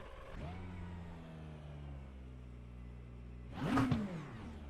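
A McLaren 720S GT3 race car's engine starts up in the iRacing sim, a steady idle hum rising into a loud burst of revs near the end, with no talking.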